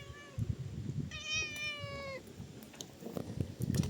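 A house cat lets out a single clear, drawn-out meow close by, over a low rustle of background noise and handling sounds.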